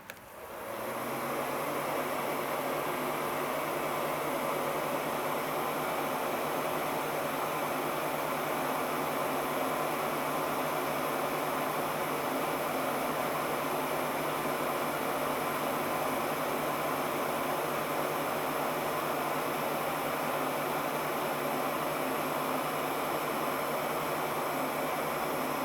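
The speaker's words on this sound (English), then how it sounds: "Now I'm going to take my heat gun" A heat gun blows hot air onto a piece of fatwood, a steady, loud, even rushing hiss that starts almost at once and runs unbroken to the end, with no talking.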